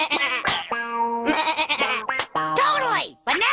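A cartoon voice of Miss Daredevil imitating a goat, several loud, wavering bleats in quick succession with bursts of breathy noise between them.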